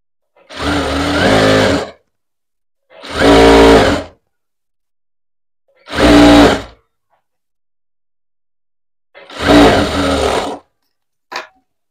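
An electric sewing machine stitches a blouse lining in four separate bursts of steady whirring, each lasting one to two seconds with quiet pauses between, followed by a very brief final blip.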